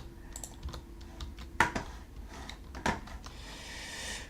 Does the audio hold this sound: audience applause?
no